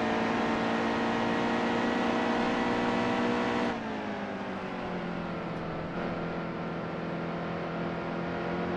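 Racing truck engine in NASCAR Heat 2 at Gateway, a steady loud harmonic drone that shifts to a lower pitch partway through, with no talk over it.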